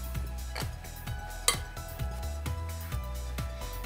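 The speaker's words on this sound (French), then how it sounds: "On va remuer." A spoon stirs cucumber, goat cheese, mint and a pinch of Espelette pepper in a bowl, making a regular series of soft clinks and scrapes about every half second, close and quiet.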